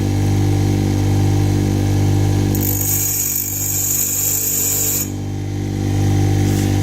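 A steady motor hum from a grinder, with a harsh, high-pitched grinding screech for a few seconds in the middle as a drill bit's edge is ground back for brass, before it returns to the plain hum.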